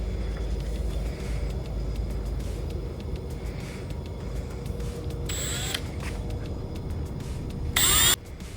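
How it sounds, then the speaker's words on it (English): Two short, shrill bursts of a power drill cutting a hole into a plastic dash blank of a Nissan Titan XD, heard over a steady low background hum. "we're gonna drill the hole in this to mount our new switch"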